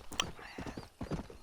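Horse hooves clip-clop in a steady trotting rhythm in Red Dead Redemption, with a faint whinny-like tone early on over low game ambience.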